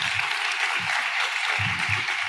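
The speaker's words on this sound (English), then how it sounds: "So a round of applause for Juan." A forum audience at an education plenary gives Juan a round of applause, steady and full, with dense clapping throughout and a few faint low thumps underneath.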